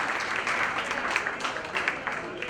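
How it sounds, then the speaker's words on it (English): Warm, steady applause from the audience at a book launch, a full room clapping continuously at moderate loudness with no break. "a big round of applause for him standing silently there, supporting absolutely everything"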